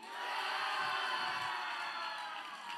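El Segundo supporters at an esports championship crowd cheering, a sustained roar of voices with scattered whoops that swells early and stays loud for nearly three seconds.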